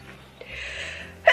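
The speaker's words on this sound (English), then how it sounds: "I need to sneeze." A woman lets out one abrupt sneeze at the very end after a brief breathy build-up, close and fairly loud.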